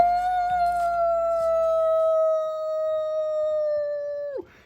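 A man imitates a wolf with a single long, steady, sustained howl that holds its pitch for several seconds before dropping off sharply at the end, with faint low background noise underneath.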